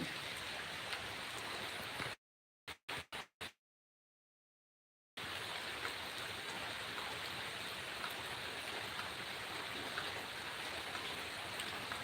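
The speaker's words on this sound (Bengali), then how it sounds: "এ জায়গায় বৃষ্টির ছিটে পড়তে আছে" Steady rain falls beside a mosque with a dense, hissing patter, briefly cutting out to silence partway through before resuming just as evenly.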